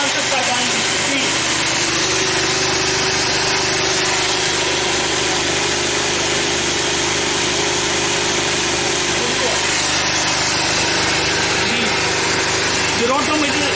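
An electric pump motor on a Francis turbine trainer runs continuously with a steady mechanical whir and hum, near and fairly loud, holding an even tone throughout.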